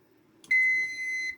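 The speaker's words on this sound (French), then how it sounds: "l'alarme sonne vu que le niveau de poudre est bas" Dosing machine alarm signalling a low powder level, a single high electronic beep held steadily for about a second, close and clear over a quiet background.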